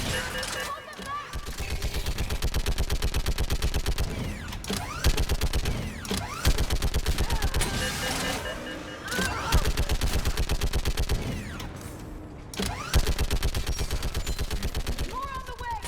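Sustained automatic gunfire in Mass Effect 3 rattles almost without pause, loud and close, with brief gaps and mechanical clanks, while voices call out over the battle.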